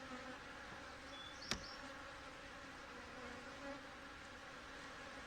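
Agitated honey bees drone steadily around a hive, a dense continuous buzz at low level with one brief louder insect passing close by, and no talking.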